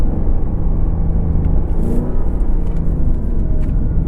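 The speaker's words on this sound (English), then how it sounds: "The V8 just has so much character in this car" A 2024 Ford Mustang GT Premium's V8 rumbles steadily and loudly from inside the cabin while driving, a continuous deep engine drone with no speech over it.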